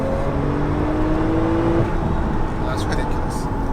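A 750hp Porsche 911 Turbo S driven in manual on an open road gives a loud, rising engine drone that climbs and then eases, heard from inside the cabin under people talking.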